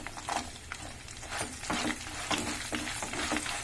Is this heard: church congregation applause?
no